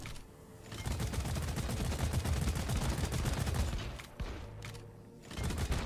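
Dense, sustained gunfire from a video game battle, rapid overlapping shots and bursts running almost continuously, briefly easing before resuming.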